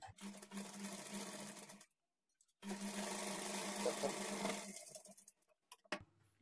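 A sewing machine stitches the main fabric piece onto a blouse lining in two steady whirring runs separated by a short pause, then stops with a few light clicks.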